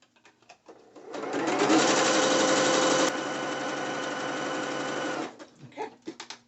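A sewing machine runs a small zigzag stitch on a drawstring side-ruched dancewear skirt, whirring loudly and steadily for about four seconds, then easing slightly in pitch and level before stopping, with a few soft handling taps around it.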